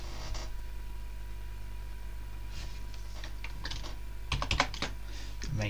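Keys pressed on a computer keyboard in an Ubuntu Linux session, a quick Ctrl+Alt+T combo among scattered taps, with a denser burst of clicky keystrokes near the end over a steady low hum, close and without speech.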